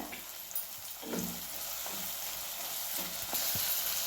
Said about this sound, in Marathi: त्यातच आता मी थोडं आलं आणि लसूण टाकते ते पण भाजूया